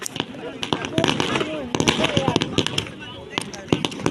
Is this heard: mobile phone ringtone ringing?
no